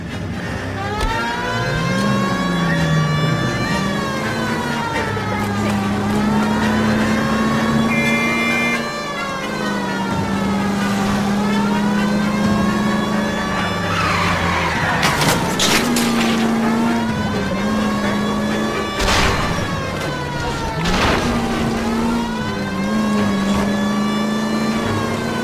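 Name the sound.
car driving in LA Noire video game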